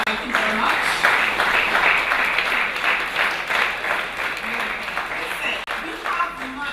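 Sustained audience applause at a public address in Barbados, a dense wash of clapping that holds steady throughout with a brief dip near the end.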